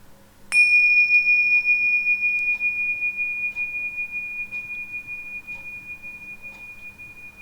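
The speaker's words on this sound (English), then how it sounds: "And we'll begin after the bells." A single clear bell strike rings out and its pure tone lingers, slowly fading over several seconds against a quiet room hum.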